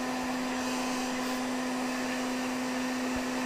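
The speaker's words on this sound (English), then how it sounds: "I've got the heat gun turned on high" A heat gun on its high setting, used to soften PVC pipe, blows with a constant whooshing roar and a strong steady whine, close and unbroken.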